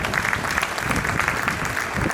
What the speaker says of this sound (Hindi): जोरदार तालियां आप लोग अपने लिए एक बार प्लीज बजाओ।